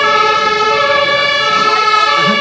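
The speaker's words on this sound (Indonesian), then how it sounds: "Wow, mobil pemadam kebakaran." A toy fire truck plays an electronic siren, a loud, steady, close wailing tone with a buzzy synthetic edge that runs continuously without talk.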